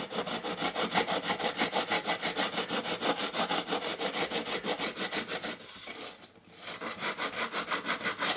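Coarse tool rasping steadily back and forth across the planked wooden hull of a ship model, a fast, even rhythm of rough scraping strokes, close and loud, with a brief pause near the end before resuming.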